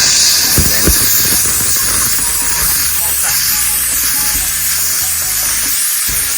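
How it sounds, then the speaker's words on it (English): A steamer gun hisses continuously while cleaning a car's leather interior, a loud broad steady rush with faint thuds and clicks underneath. "Don't point it, don't let your steamer gun or steamer nozzle sit on the leather, because then you'll burn it."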